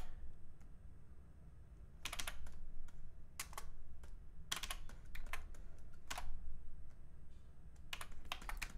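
Computer keyboard keys tapped for shortcuts while working in 3D modelling software, heard as quiet isolated clicks and short bursts of several rapid keystrokes over faint background hum.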